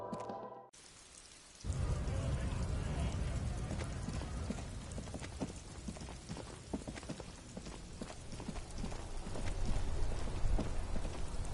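Steady rain from the video game Disco Elysium falls in a dense, even patter that swells in after a brief quiet opening and carries on without a break. No one speaks.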